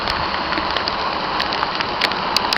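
Heavy rain pours down near Appleton in Newfoundland, a dense, steady hiss of downpour with occasional sharper drop hits, loud and continuous with no voices.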